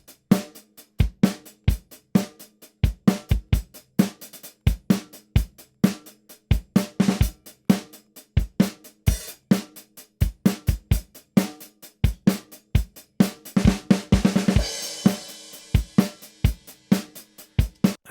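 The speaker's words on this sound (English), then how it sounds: "So what I've got here is a drum recording." A mixed multi-mic drum kit recording plays back as a steady groove of sharp kick and snare hits with hi-hats, crisp and punchy, with a cymbal crash swelling near the end and no voices.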